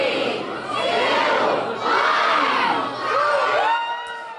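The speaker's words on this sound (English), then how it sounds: "A crowd of kids and their parents cheered as the hundreds of balloons dropped at the Washington Pavilion for its New Year's Eve celebration" Kids and parents cheer and shout together as hundreds of balloons drop at a New Year's Eve celebration in the Washington Pavilion, Sioux Falls, in loud swelling waves of excited voices with high children's shrieks.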